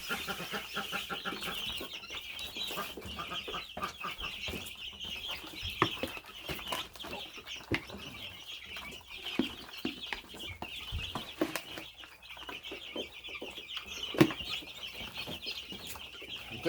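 Young Cornish chicks clucking and peeping in a brooder, a steady busy chorus of small chirps and scratchy movement close by, with no talking.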